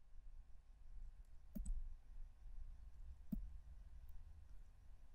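Two sharp computer mouse clicks, about two seconds apart, stand out over a quiet room hum, with a faint extra tick between them.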